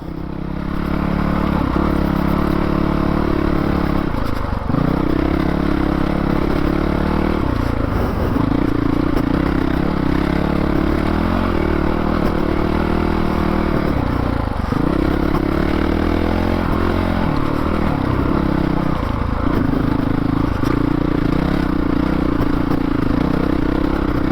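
A 2019 Honda CRF450L dual-sport motorcycle ridden off-road on trails near Shasta, its engine droning loud and continuous close to the mic, pitch rising and dropping with throttle changes and gear shifts, mixed with wind and rattling.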